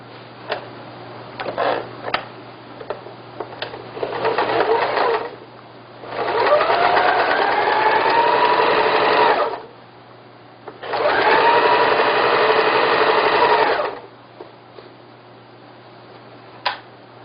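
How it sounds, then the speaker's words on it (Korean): A sewing machine stitches a Korean floor cushion: a few light clicks and handling taps, then two sustained whirring runs of needle stitching, each about four seconds long, close and loud with quiet pauses between. "1cm 남겨놓고 여기서부터 박음질이 시작되는 거죠."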